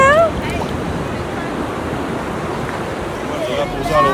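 Ocean waves washing onto Daytona Beach: a continuous loud, broad surf hiss with gusty wind noise on the microphone, heard near, with faint distant voices at the start and end.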